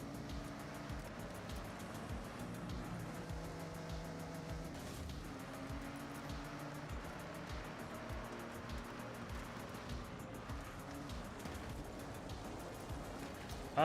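A car drives in the Forza Horizon racing video game, with a continuous engine drone and tire noise at moderate, even level, no talking heard.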